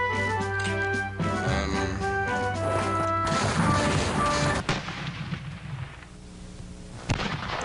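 Artillery and gunfire crash out during an attack in the Civil War Generals 2 video game, with dense overlapping booms and impacts, punctuated by a sharp crash near the end, over a sustained tonal music bed.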